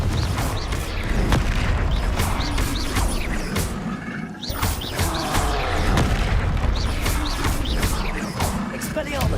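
Booming blasts and crashes from Confringo spells in Hogwarts Legacy combat, repeated loud impacts layered with constant spell effects while a person talks throughout.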